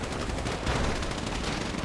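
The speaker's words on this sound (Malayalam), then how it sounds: "ഹംസ കഞ്ഞിക്കുഴിക്ക് നല്ലൊരു വെടി കിട്ടി." Rapid gunfire from a GTA roleplay turf war rattles on without pause, dense overlapping automatic bursts filling the whole moment loudly and up close.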